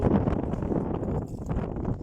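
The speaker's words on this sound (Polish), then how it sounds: "Zimny wiatr." Strong, cold wind buffets the microphone with a steady low roar and rumble, continuous throughout with no voices.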